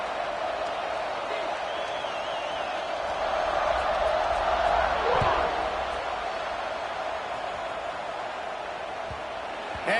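A football stadium crowd roars in a broad, sustained wash of cheering that swells midway, with a commentator talking over it throughout.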